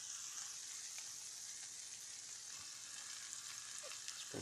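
Rice toasting in oil in a pan for chicken and rice, a faint continuous sizzle with soft crackles and occasional light scrapes, no talking.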